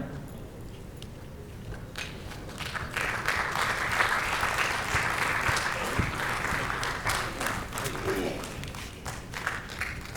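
Sustained audience applause at a dance and theatre performance event, loud and dense, with many hands clapping together for several seconds and no clear voices over it.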